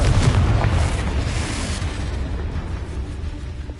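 A Confringo blasting spell explodes in the Hogwarts Legacy game, a loud, booming burst that starts at full force and then rumbles and decays gradually.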